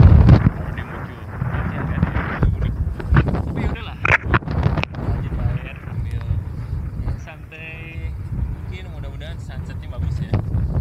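Wind buffeting at a surf beach, loud gusty rumble and microphone thumps throughout, with someone talking over it.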